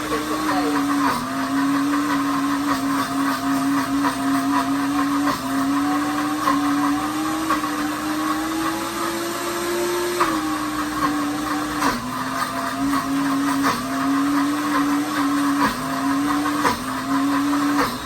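A Deluxe Cooking Blender whirring steadily as it purees hummus, a loud continuous motor drone with a slowly wavering pitch that dips and recovers several times across the run.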